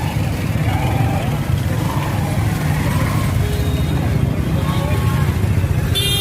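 Motorbikes ride along a rain-damaged, flooded, broken road at a market crossroads, their engines droning steadily and close under continuous street noise, with someone talking over it.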